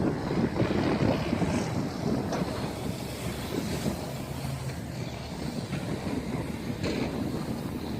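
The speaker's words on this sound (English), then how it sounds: "Man, this wind is pretty strong too." Strong wind buffeting a microphone outdoors during a Hubsan H501S drone flight, a steady loud rumbling roar with gusty fluctuations throughout and no talk.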